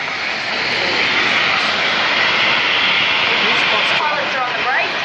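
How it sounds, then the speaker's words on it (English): Landed aircraft at an airshow runs its engines in reverse thrust, a loud steady jet roar that fills the whole stretch with a broad rushing hiss and no break. "Those engines go straight into reverse."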